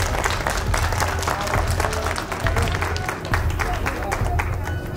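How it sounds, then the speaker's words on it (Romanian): A crowd at an outdoor protest bursts into applause, irregular claps rising and falling with murmuring voices and shouts woven through the clapping. "Aplauze pentru ei!"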